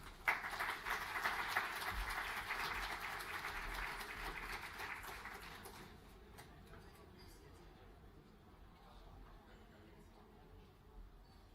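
An audience at a film commission summit gives a round of applause, a fairly distant, steady patter of clapping that fades after about six seconds into quiet room noise.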